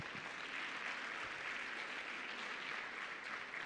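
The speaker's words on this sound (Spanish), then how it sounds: "fuertes aplausos, por favor." A church congregation at a Sunday service claps steadily and densely, a sustained wash of applause that holds at an even loudness throughout.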